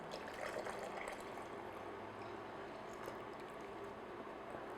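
Lukewarm liquid being poured into a bowl while making cinnamon rolls, a steady continuous trickling and splashing stream that runs evenly for several seconds with no talk over it.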